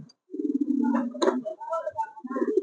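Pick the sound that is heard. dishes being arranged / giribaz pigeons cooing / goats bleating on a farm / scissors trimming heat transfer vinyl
giribaz pigeons cooing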